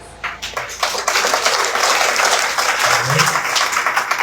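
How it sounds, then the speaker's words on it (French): A church congregation at an evangelistic service claps together, scattered at first and then building into steady, moderately loud applause with some faint voices mixed in. "Applaudis au Seigneur."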